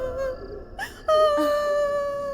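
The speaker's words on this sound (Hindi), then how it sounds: "किसी के रोने की आवाज आ रही है लगता है।" In a Hindi-dubbed horror film, someone cries and wails in drawn-out, quavering moans. The cries come close together and rise in pitch, faint at first, then louder.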